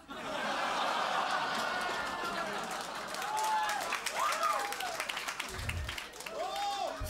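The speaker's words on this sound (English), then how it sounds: "Thank you for the round of applause." Applause and scattered laughter rise from a comedy club audience, a steady crowd clatter running for several seconds, with snickers and chuckles breaking through near the end.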